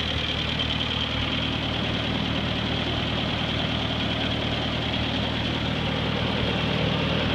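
A Ford 8N tractor engine fitted with a 12 volt coil runs at a steady idle, a close, constant low rumble with a rhythmic knock that holds through the whole stretch without any voices.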